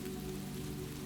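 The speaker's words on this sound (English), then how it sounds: "Outside, the rain shifted to a gentler pattern" Steady rain falls throughout, a dense, even patter of drops striking surfaces, continuous and moderately soft with no voices over it.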